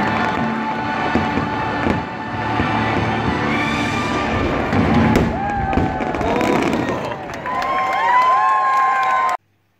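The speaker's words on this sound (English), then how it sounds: "here is a couple Snapchat videos from fireworks in Disney" Fireworks at Disney burst and crackle for several seconds while a crowd cheers and whistles throughout, with a few sharper pops standing out, before the sound cuts off abruptly.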